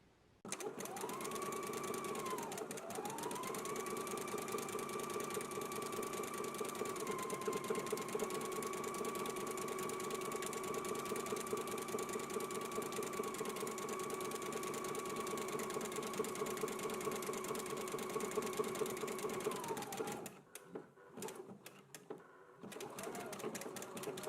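A sewing machine runs steadily for about twenty seconds while zigzag-stitching a 1.25-inch sleeve hem, a continuous close mechanical whir with rhythmic ticking, then stops and leaves brief handling sounds.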